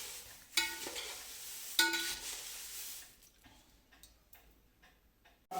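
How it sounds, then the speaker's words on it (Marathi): Thin nylon poha chivda is tossed and mixed with masala in a pan, giving faint dry rustling and scraping with a couple of sharper knocks of the spoon against the vessel near the start. "हा मसाला हा जो चिवडा आहे तो या पद्धतीनं सगळा व्यवस्थित मिसळून घ्यायचा आहे"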